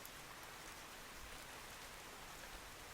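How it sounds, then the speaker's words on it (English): Steady heavy rainfall at night in the Fantasian Neo Dimension video game, a dense continuous patter of droplets on surfaces, even and unbroken throughout with no voices. "heavy droplets of rain began to fall"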